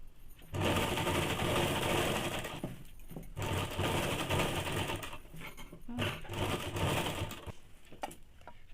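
A sewing machine stitching fabric for men's underwear runs in long continuous bursts of rapid needle chatter, loud and close, pausing briefly between runs.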